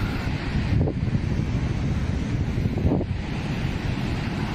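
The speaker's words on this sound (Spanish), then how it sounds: "Ah, me encanta el sonido del mar." Sea waves wash onto a beach that was once remote, with a steady broadband roar and two soft surges breaking nearby, mixed with wind buffeting the microphone and no talking.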